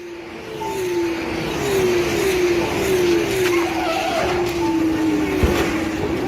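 A Formula 1 car screams past at high engine revs, its pitch sweeping down repeatedly as it shifts, with a sharp thud near the end amid a loud, continuous racing roar.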